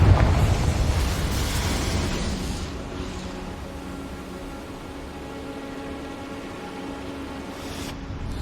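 A Confringo fire spell explosion in Hogwarts Legacy opens with a loud, broad blast that decays into a long roaring, crackling rumble, fading to a steady hiss before a small burst near the end.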